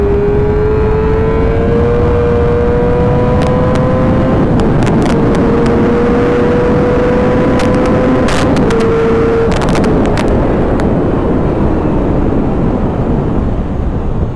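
A 2009 Yamaha YZF R6 motorcycle engine drones loudly and close, its pitch climbing slowly across several gear-like steps, with sharp clicks and knocks scattered through the middle. No one speaks.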